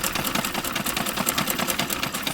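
A domestic sewing machine stitches cloth for small frocks, a fast, steady mechanical whirring with rapid regular pulses running continuously at close range.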